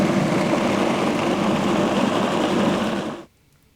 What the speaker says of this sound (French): On va mixer une nouvelle fois et voir si ça convient comme ça.